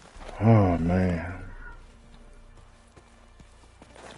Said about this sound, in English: And the horse walking so slow like it's injured.